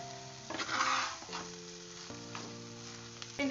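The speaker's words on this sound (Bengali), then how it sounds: "এবারে আমি এটাকে ভালো করে মিশিয়ে পুরোটাই কষতে থাকবো।" Mashed boiled potatoes being stirred and fried in a pan for aloo chop, a steady close sizzle with soft scraping strokes of the spoon, under faint background music and no talking.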